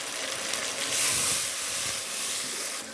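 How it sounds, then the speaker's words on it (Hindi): Water is splashed into a pan of frying garlic-ginger masala for matar gosht, and it erupts into a loud, bright hiss that swells and then settles to a steady sizzle. "अभी डालेंगे जी हल्का सा पानी।"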